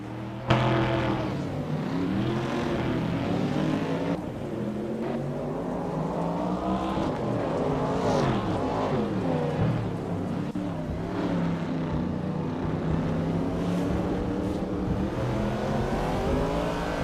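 Race cars in a video game race roar continuously at high revs, engine tones rising and falling as they speed and overtake, a dense, steady drone with no talk.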